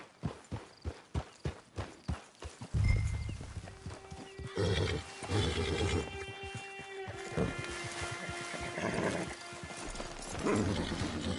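In the video game Red Dead Redemption 2 Online, a steady clip-clop of hooves opens, then a horse whinnies loudly over trotting and ambient noise, with another neigh later on.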